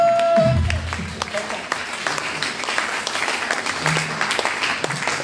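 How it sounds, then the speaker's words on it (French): Loud applause fills a church ceremony honouring women servants with honorary titles, dense clapping sustained throughout with a voice speaking over it near the start. "Nous applaudissons fort"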